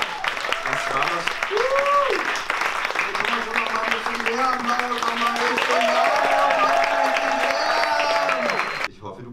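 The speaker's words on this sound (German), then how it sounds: "Applaus!" Theatre audience applause at the Staatstheater Braunschweig, a steady wash of clapping through most of the clip with voices and tonal sounds layered over it, cutting off near the end.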